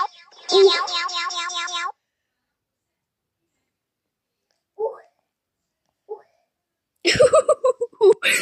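A cat meows in a short run of repeated, wavering calls, then goes quiet. Later come a couple of brief faint sounds and a burst of people talking.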